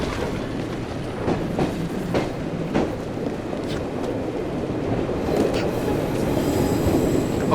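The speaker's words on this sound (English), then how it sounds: "Okay, we're on the train." Train rolling on rails in Assassin's Creed Syndicate, a steady loud rumble with rhythmic clickety-clack and occasional metallic wheel squeals, continuous and close throughout.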